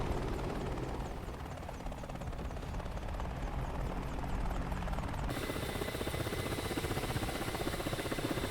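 An Apache attack helicopter in the DCS flight simulator gives off a loud, steady rotor thrum with rapid blade chop. It grows harsher and more pulsing midway through and continues alone, with no talk.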